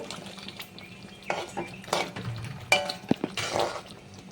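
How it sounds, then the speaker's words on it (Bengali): Prawns go into a pot of simmering coconut milk curry with scattered metallic clinks and scrapes of a utensil against the pot, close and moderately loud, with no talking. "আর এখন আমি চিংড়ি মাছগুলো দেবো"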